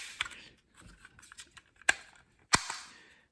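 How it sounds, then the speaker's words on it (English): A homemade prop dart gun from Fallout is handled with faint clicks, then fires with two sharp, snappy cracks about half a second apart, quiet and close. "just release it like that, and then it'll shoot it out."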